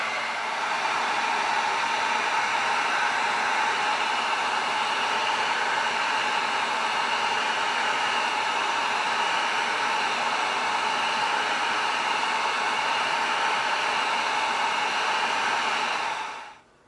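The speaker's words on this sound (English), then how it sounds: "Now we're going to get out the heat gun and we're going to hit this with heat" A heat gun blows hot air onto EVA foam in one long, steady, loud whoosh that runs unbroken for about sixteen seconds before cutting off.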